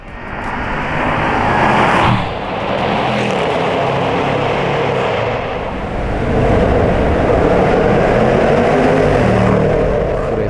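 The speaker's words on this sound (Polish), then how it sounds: "ten dźwięk charakterystyczny, no i w końcu to jest to piękne V8" A powerful British-built Jaguar F-Pace SVR V8 engine roaring and revving, a dense throaty growl that swells, dips briefly, then climbs again, loud and close.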